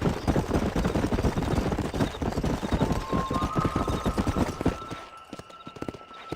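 Hooves of a galloping horse in Red Dead Redemption pound in a fast, steady rhythm, close and loud, with a short whinny-like tone near the end as the hoofbeats fade out.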